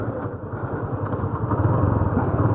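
A Suzuki Intruder 150cc cruiser motorcycle is ridden around Pokhara, its steady, throbbing engine rumble close and continuous, swelling slightly louder toward the end, with no talk.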